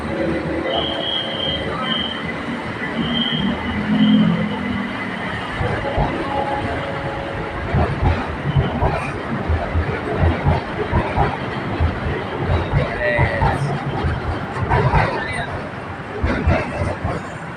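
A BTS Silom Line skytrain rolls into Saphan Taksin station, Bangkok, with a rumbling, clattering approach, wheels squealing intermittently and a chime sounding near the start.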